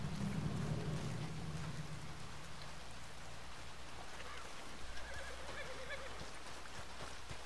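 Steady rain patters throughout while a horse gives a whinny partway through, with faint hoof clops mixed into the wet background, in the video game Red Dead Redemption 2.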